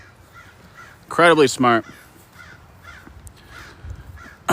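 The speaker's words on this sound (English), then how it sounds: "Hello, beautiful crow." A crow gives two loud, harsh caws close by in a cemetery, each call clear and separate, while a person talks quietly before and after.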